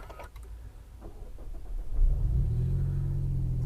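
Mitsubishi Evo X engine while driving, heard from inside the car: a low rumble that swells into a louder, steady drone as the car pulls away and keeps going.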